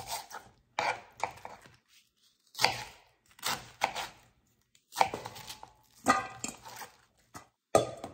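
A knife chops a quarter cabbage on a cutting board in crisp, separate bursts of quick cuts with short pauses between them, close and fairly quiet, with no talking.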